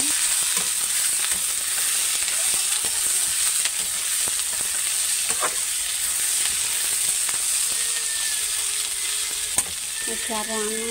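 Onions frying in a pan of oil, a continuous crackling sizzle with scattered spatters and occasional clinks of a stirring utensil, close and steady with no talk.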